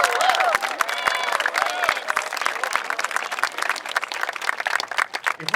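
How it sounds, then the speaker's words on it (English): Students applauding at a school ceremony for Jeffrey Trail, a dense wash of crowd clapping with some cheering mixed in, sustained and fairly loud before fading slightly. "give yourself a round of applause."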